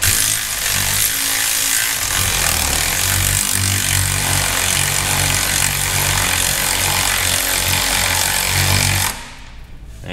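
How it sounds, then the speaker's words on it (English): A ball joint press forces a Delrin suspension bushing sleeve into a Corvette C5/C6 suspension part, producing steady loud grinding and mechanical rumble for about nine seconds, then stopping abruptly. "Ball joint press rigged up."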